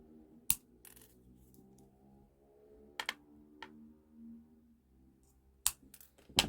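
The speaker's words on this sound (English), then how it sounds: "I'm going to bend those wires over the back and cut them short." Jewellery wire for a wire-wrapped pendant is bent and snipped short with pliers and cutters, giving a few sharp, isolated metallic clicks and snaps with quiet handling between them, close up.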